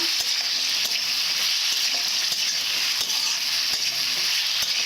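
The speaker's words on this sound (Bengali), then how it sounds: "এভাবে ভালো করে কষে নেব হলুদ দেবো এইভাবে ভালো করে নেড়ে নেব" Shredded cabbage with turmeric stirred and fried in a pan: a steady, loud hiss of sizzling oil with scattered scraping clicks of the spatula throughout, no voices.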